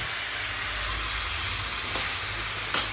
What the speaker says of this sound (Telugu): ఇలాగా వేగిపోయిన తర్వాత ఇప్పుడు టమాటాలు వేసేయాలి.